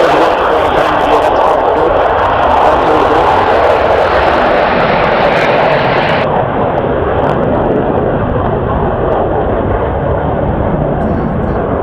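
A JAS 39 Gripen jet aircraft taking off, its engines producing a loud, continuous broadband roar that holds steady and then shifts slightly darker midway, close and overwhelming with no voices.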